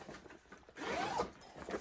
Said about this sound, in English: we have got a zipper so that my groceries now will not fall out